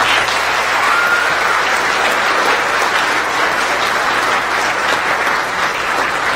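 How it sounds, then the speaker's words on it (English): Steady, loud applause fills a school auditorium at a high school choral concert, a dense continuous wash of clapping from a large audience with no break. "round of applause for them, please"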